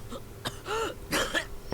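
The character Okita in the video game Hakuoki Kyoto Winds coughs and clears his throat, a few short, rough bursts heard up close with no other sounds around them.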